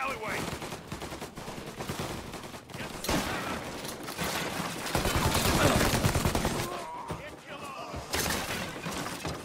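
Dense, continuous gunfire from a shootout in Mafia Definitive Edition, with rapid overlapping bursts and a possible machine gun rattling steadily throughout, loud and close, with a voice talking over the shots.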